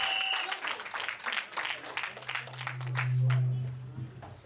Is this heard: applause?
yes